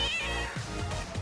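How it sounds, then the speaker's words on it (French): A cat meows in a short, close cry with a rising then falling pitch, standing alone with no talk, amid playful doll-scale commotion. "Un chat a décidé de venir faire le bazar."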